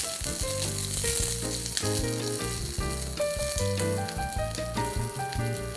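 Red onions or shallots fry in coconut oil with a steady, bright sizzle running through the whole stretch, partly masked by prominent melodic background music.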